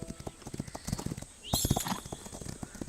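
Horse hooves clip-clop in a steady rhythmic gait in the horse racing video game Rival Star Horse Racing, fairly quiet, with a brief whinny-like burst midway.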